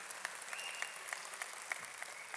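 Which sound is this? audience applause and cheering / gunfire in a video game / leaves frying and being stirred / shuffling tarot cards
audience applause and cheering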